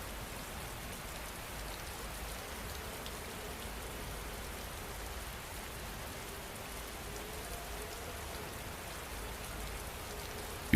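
Steady rain falls without a break, a dense, even hiss of drops striking surfaces, constant in loudness with no voices or thunder.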